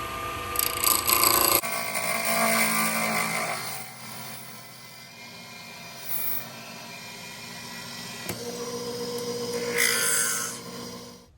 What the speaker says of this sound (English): This is for a plug center cutter, and this works brilliantly.